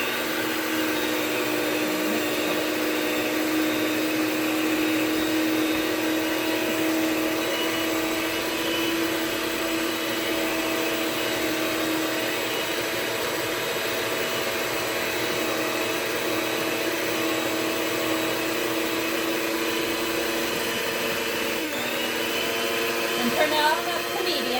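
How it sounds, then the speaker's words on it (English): A blender runs on low speed while making a no-bake pumpkin cheesecake, giving a steady loud motor whir that carries unbroken for a long stretch. "Now we want to go ahead and turn the blender back on, starting out on low,"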